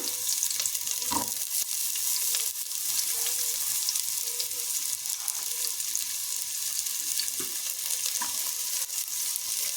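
Two thick-chopped onions frying in a pan for a one-pot brinjal rice dish, giving a continuous bright sizzle with occasional light clinks and scrapes of stirring, close and steady.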